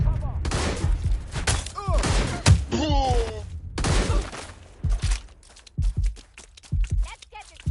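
Frag grenade blasts and gunfire in Watch Dogs: Legion, a string of loud sharp thuds and bursts with whistling tones, plus speech-like game voices, busy close-up combat.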